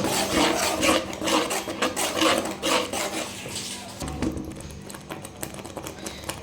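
Tomato thokku chutney being stirred in a pan, a steady rubbing, scraping texture with rhythmic rasping strokes at close range that grow quieter toward the end.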